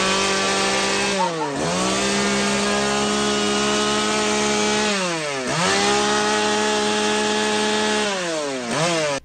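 A chainsaw runs loud and close during a groom's shave at a wedding in Çorum, Turkey, its engine whine dipping and revving back up twice as it bogs and recovers.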